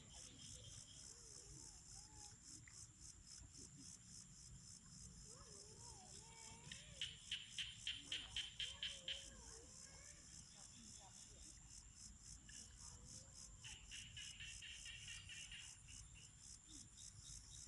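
Frogs and crickets call at night along a Thai riverside lift-net fishing spot, a steady insect trill with a burst of rhythmic croaks in the middle, faint talk beneath.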